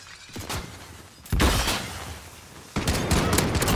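Modern Warfare gunfight gunfire comes in several loud, close bursts separated by brief pauses, with sharp cracks and rattling reverb.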